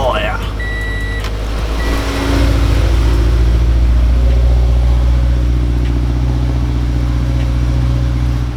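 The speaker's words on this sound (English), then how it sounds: "Do a little E85 cold start." A Subaru BRZ engine running on E85 fuel cold-starts and settles into a steady, loud idle drone throughout, with a brief higher whine early on and voices talking over it.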